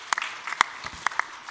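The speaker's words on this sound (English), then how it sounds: "I think he deserves another round of applause" A conference audience gives scattered, uneven applause after a presentation at a cobalt market session. Sharp individual claps stand out in a loose rhythm rather than a dense ovation.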